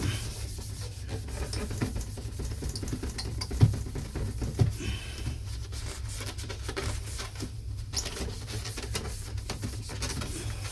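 Steady close scrubbing and rubbing on the rear plastic bezel of a 1984 Ferguson TX 37140 12-inch CRT TV to clear gunk, a continuous abrasive swish with two small knocks, no talking.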